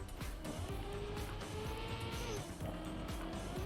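Car drifting in the Trackmania racing game, a continuous engine whine with sliding tire squeal, loud and constant throughout with no talking.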